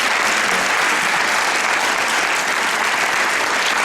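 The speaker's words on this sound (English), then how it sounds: "How about another round of applause for the inspired Mr." Loud, sustained applause from an audience at a live event, thick and even clapping filling the whole few seconds without a pause.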